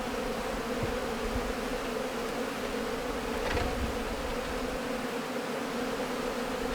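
Dense, continuous buzzing of many honeybees, a steady hum filling the whole stretch with no talking.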